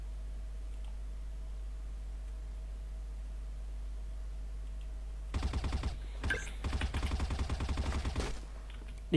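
Video-game gunfire comes in rapid automatic bursts over a quiet, steady hum, with short pauses between volleys and keyboard clicks mixed in, and no speech.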